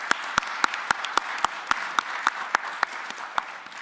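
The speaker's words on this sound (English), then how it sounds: "Let's give Chief McDaniel another round of applause." Audience applause at a county commissioners meeting, a steady patter of clapping from a room of people with regular sharp individual claps standing out, moderately loud and without talk.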